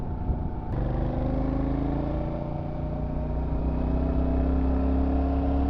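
A Royal Enfield Classic 650 motorcycle rides along a road, its engine a steady, loud droning hum that slowly rises in pitch as it accelerates, with a sharp click near the start.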